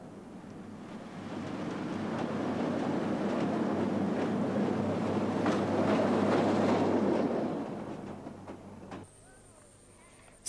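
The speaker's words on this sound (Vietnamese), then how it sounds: "xe sửa chữa đường sắt." An old wartime military supply vehicle, now used for railway repair, rolls along the tracks. Its heavy rumble builds, holds loud and steady for several seconds, then fades away.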